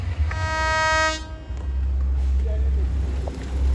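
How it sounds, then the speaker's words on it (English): A passenger train horn in Linstead, Jamaica, sounds one long, loud, steady blast that cuts off after about a second, leaving the deep low rumble of the train idling and moving, with faint voices nearby. "Passenger train can move off anytime"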